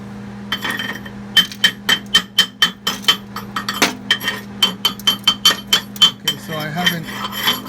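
A fresh arc weld bead on a trailer tongue mounting bracket gets scratched and knocked clean, a rapid series of sharp metallic scrapes and taps in an uneven rhythm, close over a steady background hum.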